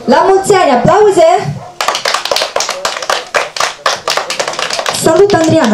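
Clapping from a small family gathering after a birthday song for a nine-year-old girl, crisp hand claps close by in a quick, uneven rhythm, with singing voices at the start and talking resuming at the end.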